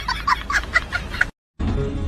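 A hen clucks in a quick run of short, bright calls, close and fairly loud, then stops abruptly before a low rumble of background noise.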